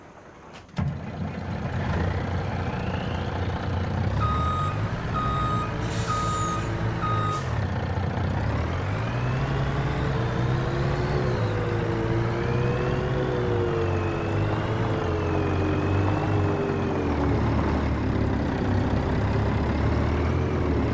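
Truck in the video game Farming Simulator 25, a steady loud engine drone with shifting pitch as it moves, plus a stretch of repeated reversing beeps and a brief air-brake hiss, no talk.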